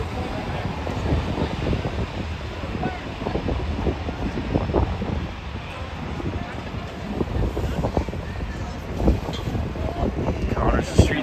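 Wind gusting along an empty Midtown Manhattan street near midnight, a steady broad rush with low rumbling buffets and occasional louder gusts throughout, with no talking.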